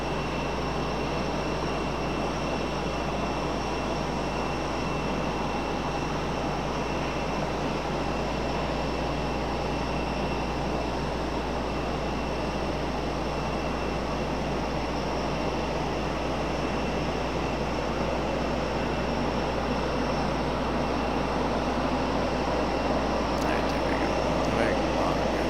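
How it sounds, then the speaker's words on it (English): Airliners arriving at night at Raleigh-Durham International Airport on parallel runways, heard as a steady, loud, continuous engine roar and rumble that lasts throughout, with no clear talking. "Got a parallel landing here."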